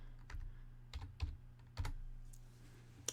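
Quiet typing on a computer keyboard indoors, a handful of separate soft key clicks and taps at an uneven pace over a low steady hum.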